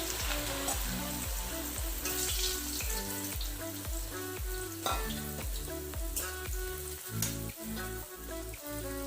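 Cut bread pieces fry in deep oil in a kadai, giving a loud, dense, continuous sizzle and crackle with steady bubbling that stays strong from start to finish, with no talking.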